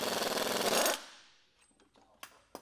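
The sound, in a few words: ball joint removal tool removing truck ball joint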